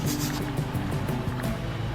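A motorbike rides through muddy water on an off-road mountain track in Shounter Valley, Kashmir, with a continuous close sloshing, churning rush of water under a low engine rumble.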